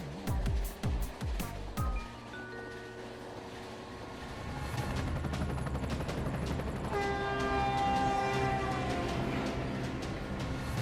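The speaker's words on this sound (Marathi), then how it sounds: "ही पहा ट्रेन." A cartoon train rolls past, opening with a few sharp clanks, then a long horn blast and a steadily swelling rumble of wheels that grows louder toward the end.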